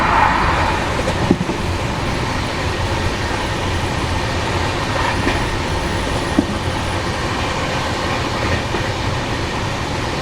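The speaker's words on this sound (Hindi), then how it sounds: "ये थी टाटानगर यशवंतपुर एक्सप्रेस।" The Tatanagar–Yesvantpur Express rushes past at close range, a loud continuous roar of wheels and carriages with a few sharp clacks standing out.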